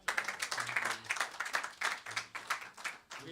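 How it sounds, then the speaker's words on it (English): Scattered clapping from a small temple audience at an ISKCON Sunday program in Coventry, quiet and uneven, with individual claps standing out rather than a dense roar. "Round of applause."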